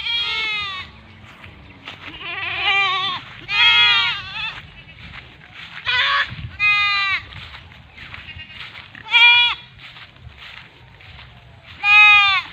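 Male goats bleat loudly and repeatedly, about eight separate quavering calls spaced a second or two apart, close by, over faint low farmyard background.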